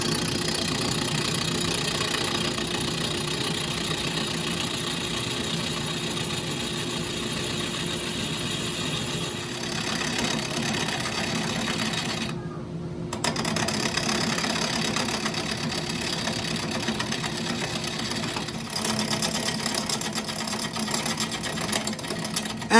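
Wood lathe spinning a mango wood bud vase blank, a steady broadband whir and hum running throughout with a brief dip in the middle, no talk.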